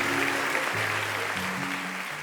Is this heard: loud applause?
yes